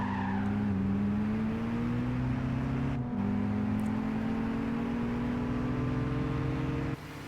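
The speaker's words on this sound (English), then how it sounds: "Yeah, it is an Audi A3." An Audi A3 races in Gran Turismo 5 during a Clubman Cup event, its engine droning loud and steady as the pitch climbs through the gears, with a brief dip near the middle and a short tire squeal.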